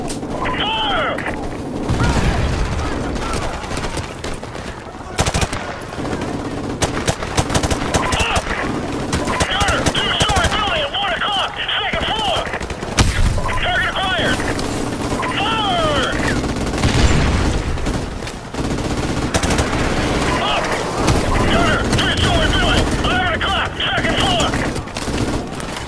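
Gunfire fills a Call of Duty Modern Warfare Remastered battle: repeated bursts of automatic weapons and scattered booms, loud and dense, with shouted voices mixed in throughout.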